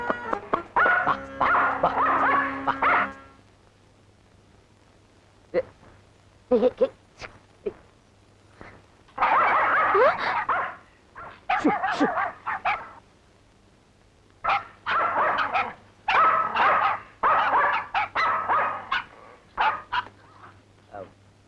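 Several dogs bark and yip in repeated bursts, loud and close, with short pauses between volleys and a low hum underneath.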